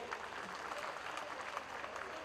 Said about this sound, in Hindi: जोरदार तालियां उसके लिए.